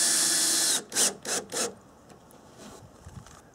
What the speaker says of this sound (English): I'll attach the top of the wall to these ceiling support boards with a couple of nice 2-inch screws.